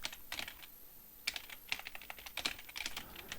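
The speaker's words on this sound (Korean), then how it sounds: "각주 내용을 그대로 타이핑 칩니다" Quiet bursts of computer keyboard typing, irregular clusters of light key clicks close by with short pauses between runs, while filling in a word processor document; no voices.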